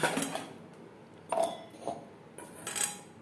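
A mixer grinder jar is handled in a home kitchen, giving three or four separate clanks and knocks of a metal jar and lid, close and moderately loud, with quiet gaps between them.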